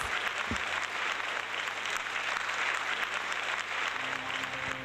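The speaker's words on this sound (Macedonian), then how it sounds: "Еден силен и темелен аплауз." An audience at a university diploma ceremony gives sustained, even applause that fills the hall. It holds steady from start to finish as a dense, continuous clapping.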